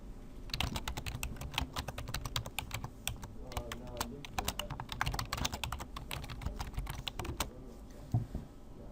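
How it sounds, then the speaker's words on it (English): Rapid clatter of keys on a computer keyboard as a message is typed, near and steady for several seconds with short pauses, then trailing off into a few last taps. "I type in my message"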